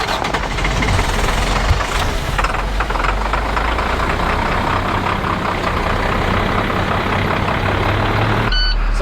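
A dumpster hauling truck with an Allison automatic transmission runs loud and steady as its engine is started, a continuous diesel rumble throughout with an abrupt change near the end.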